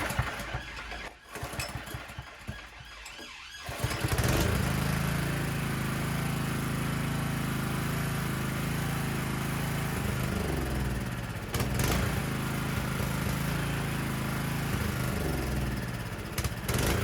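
A Honda generator converted to run on LPG fires up after a few quiet seconds, then runs at a loud, steady drone with slight dips in engine speed.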